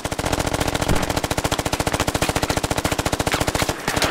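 Sustained machine gun suppressing fire in the video game Squad, a loud, steady rapid rhythm of shots that runs for several seconds with a brief break near the end, heard alone.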